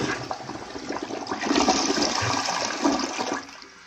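A toilet flushes in one continuous rushing swirl of water, rising and draining over about four seconds, close and alone.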